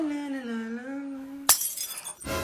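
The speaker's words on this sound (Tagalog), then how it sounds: "Unang araw pa lang dito, may nabasag ka na agad?" Glass breaks with a sudden sharp shatter during housecleaning, a single loud crash followed by scattered tinkling fragments, after a voice speaks at close range.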